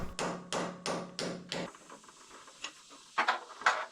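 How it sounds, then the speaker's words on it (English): A steel spacer is tapped into place on the cracked boom of a Case 170B excavator, giving five sharp, evenly spaced metallic knocks up close, followed by quieter scattered clanks and taps. "I cut a spacer of steel to tap in there that I can hold it in position"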